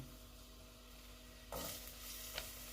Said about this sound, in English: it's already frying, wow. That was fast.